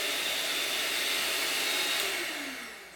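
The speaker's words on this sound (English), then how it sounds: "you want to go to the slowest setting and lift it up slowly." An electric mixer running on its slowest setting in a home kitchen while making cake, giving a steady close whirring drone that holds evenly, then drops in pitch and fades as it winds down.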